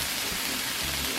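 Shrimp stir frying on a Blackstone flat-top griddle, giving a steady, dense sizzle and hiss like heavy rain, close and loud throughout with no talk.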